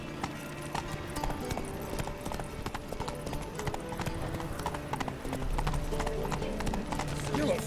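Roach the horse gallops in The Witcher 3, hooves clip-clopping in a steady, fast rhythm over layered game music and effects, with a brief whinny near the end.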